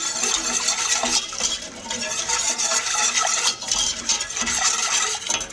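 Half a spice mixture is stirred into broth in a pot, with close, busy scraping and clinking of a utensil against the metal and liquid sloshing in a continuous loud wash.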